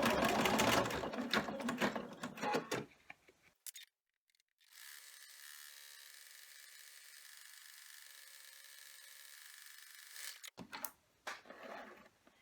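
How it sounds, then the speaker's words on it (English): An embroidery machine stitches around clear vinyl held in a 4x4 hoop for an in-the-hoop ID badge holder, a steady whirring hum lasting several seconds between louder handling noises at the start and end. "we need to take it back to the machine, and we're going to run a stitch around there to hold it in place"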